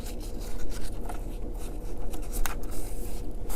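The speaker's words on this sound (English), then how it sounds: "we're going to fold this part up and score it" Scoring a fold in paper for a craft project, a close, steady scraping and rubbing stroke repeated through the moment with small ticks, no talking.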